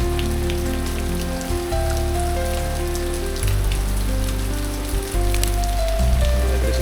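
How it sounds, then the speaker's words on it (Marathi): Rain falls in a village backyard with fruit trees. Steady pattering spreads across the surface, mixed with a low, uneven hum in the background and no speech. "मस्त पाऊस पडतो, भारी वाटतं गावी."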